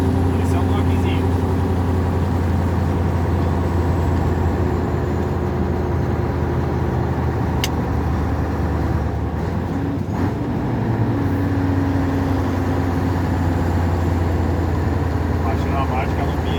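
Scania 143 V8 truck engine held at 1400 rpm, heard from inside the cab as a steady, loud low drone that runs throughout while someone talks over it.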